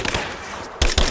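Gunfire in the video game Rise of the Tomb Raider: a low, rumbling battle backdrop breaks into two loud, sharp bursts of shots close together near the end, with no voices.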